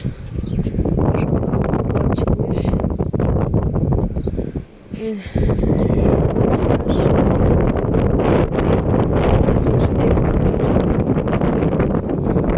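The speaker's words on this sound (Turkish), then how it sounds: "Rüzgar beni bile ittiriyor." Strong wind roars and buffets the microphone continuously, loud and gusty, with one brief lull midway.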